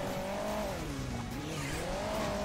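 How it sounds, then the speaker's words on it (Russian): In the mobile racing game Hill Climb Racing 2, a car's engine strains as it struggles to get moving, a continuous droning hum whose pitch dips and rises again throughout. "еле поехала, ребят, моя машинка"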